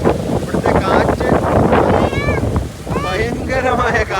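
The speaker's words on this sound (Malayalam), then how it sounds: "ഭയങ്കരമായ കാറ്റാണ് കേട്ടോ." Strong wind roars and buffets the microphone without a break at a riverside stay in Kuttalam, loud and close, while a person talks over it and bird calls break through near the end.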